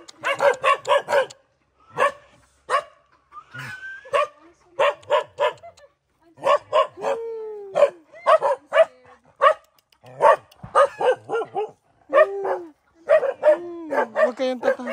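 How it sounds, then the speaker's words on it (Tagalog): A dog on Mongpong Island in Santa Cruz, Marinduque barks in repeated quick bursts, close and fairly loud, with some whimpering yelps mixed in and people talking between the barks. "may aso, may aso"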